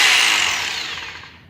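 A hammer drill run in hammer-only mode with no spinning gives a loud, close, harsh buzzing rattle that slowly winds down and fades as the tool stops.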